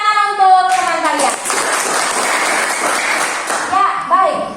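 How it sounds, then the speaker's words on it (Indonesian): Children in a classroom clap together for a classmate, a brief burst of applause that rises and fades over a few seconds, with a voice speaking before it and some chatter over the clapping. "Tepuk tangan untuk teman kalian."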